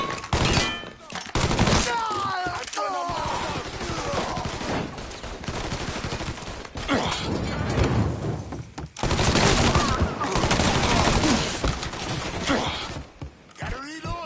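Sustained automatic and rifle gunfire from the Mafia 3 video game, loud and close, coming in dense bursts with brief pauses across the whole stretch, mixed with shouted voices.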